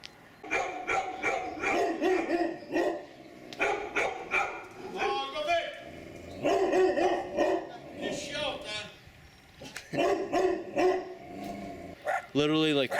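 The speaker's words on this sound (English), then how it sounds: "Literally like all the dogs in this region are barking now." Several dogs bark at night around an old French village, sharp repeated barks and yips rising and falling, some close and loud and others more distant, with brief gaps between volleys.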